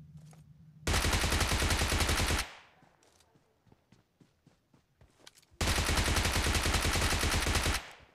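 Automatic gunfire in the mobile shooter PUBG Mobile, two loud sustained bursts of rapid fire, each a couple of seconds long, separated by a stretch of sparse, quieter pops and clicks.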